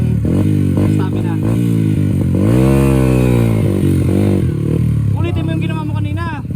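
Motorcycle engine revving and straining on a steep climb up Mt. Ugo in Itogon, Benguet, loud and close with rising and falling pitch, people shouting encouragement over it.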